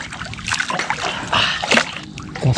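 Sea water at a beach shore splashing and sloshing in broken, irregular bursts at close range, with a dense wash of spray and trickling throughout.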